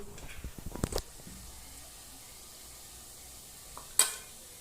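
Onions fry with ginger garlic paste for a village-style mutton curry, a soft sizzle under scraping stirs at the start and a brief clatter near the end, with no voices.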